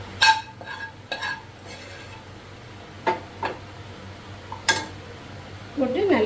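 Wheat dosa batter with sautéed onions being stirred in a bowl, a few scattered scraping and clinking strokes under a low steady hum, quiet and close.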